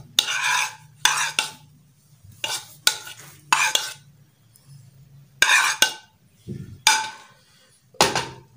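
A spoon mixing onion, tomato, cucumber and potato into yogurt raita, with repeated bursts of wet stirring and scraping against a bowl, each followed by a short pause, close and fairly loud.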